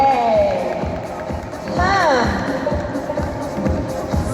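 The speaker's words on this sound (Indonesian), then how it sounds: "boleh berikan tepuk tangan yang meriah untuk Wisdom Group" An audience at a slim-figure contest awards ceremony in Indonesia cheers and claps for the winners, a loud, lively crowd roar with shouts and whistles throughout.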